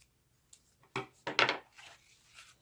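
Card paper for a Valentine's card is cut in a quiet setting, giving a few short, crisp snips and rubs spaced across a couple of seconds.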